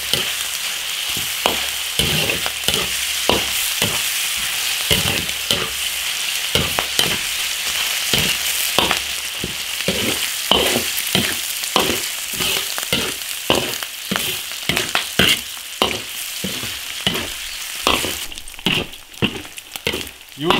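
Pork stir-fried in lard in an iron wok for twice-cooked pork, a steady loud sizzle with frequent crackles and regular scraping strokes of the spatula against the wok, continuing throughout with no talk.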